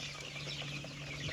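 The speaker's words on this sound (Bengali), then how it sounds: "তো মুরগিগুলো অনেক সুস্থ এবং সচ্ছল, দেখতে পারতেছেন" Tiger breed chickens on a farm, soft clucking and murmuring from a nearby flock over a low steady hum, brief and fairly faint.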